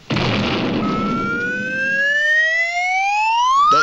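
A cartoon fire engine siren belonging to a small-town volunteer fire department starts with a rumbling burst, then rises in a long, loud upward wail that climbs steadily in pitch.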